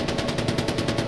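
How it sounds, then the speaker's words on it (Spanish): Automatic gunfire in the video game Far Cry 4, a rapid, even burst of shots in quick rhythm, loud and dense throughout with no talking. "¿Quién ha pegado tiros?"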